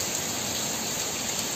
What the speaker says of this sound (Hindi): अभी तो बहुत अच्छी बारिश हो रही है, कितनी अच्छी बारिश हो रही है।